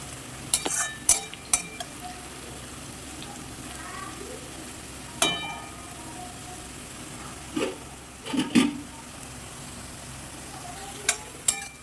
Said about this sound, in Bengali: একদম লাল লাল করে ফ্রাই করে ভেজে নেব